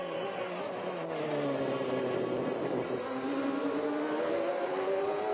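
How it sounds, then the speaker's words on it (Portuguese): Schumacher's Formula 1 car at the Canadian Grand Prix screams down the straight, a loud, sustained high-revving engine whine with shifting pitch that holds steady throughout. "A gente vê aí na reta que está falando bem o motor do Schumacher, hein?"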